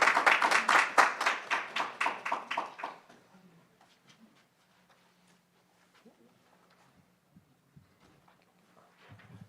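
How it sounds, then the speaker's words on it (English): A small conference audience at an SME finance event gives brief applause for speaker Dr. Park, roughly a dozen distinct claps over three seconds, then quiet room noise with faint scattered sounds. "Please give him a round of applause"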